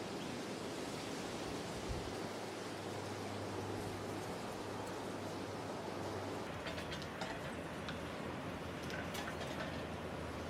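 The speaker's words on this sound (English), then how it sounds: "can you hear the sea?" Distant sea waves heard from a balcony make a steady, broad, soft wash of surf throughout, with a low rumble underneath and faint scattered clicks near the end; no one speaks.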